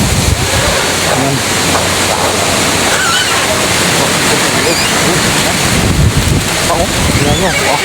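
Loud, continuous wind ahead of Typhoon Tino roars and buffets the microphone throughout, with gusty rumbling and no pauses.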